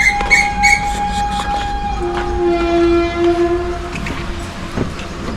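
A Konkan Railway train sounds a long, loud horn blast and then rolls out, with faint clickety-clack and rumble from the rail wagons beneath, close by and with no voices.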